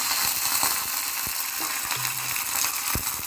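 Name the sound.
tempering spices sizzling in hot oil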